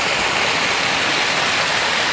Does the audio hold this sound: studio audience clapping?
no